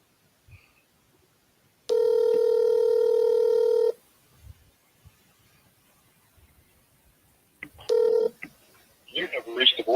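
A phone call goes out on a dialing line with a single steady two-second ring tone, a quiet gap, then a shorter tone cut off as a voice answers.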